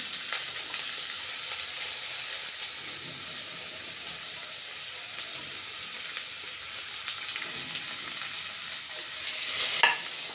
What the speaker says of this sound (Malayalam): സവാള ചേർത്ത് നന്നായി വഴറ്റി കൊടുക്കുക